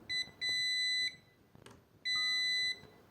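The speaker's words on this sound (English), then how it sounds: "if we connect the probes to its output and input, it should beep" Multimeter continuity beep with probes across a contactor's normally closed blade: two loud, steady high-pitched tones, each about a second long, separated by a short gap with faint handling clicks.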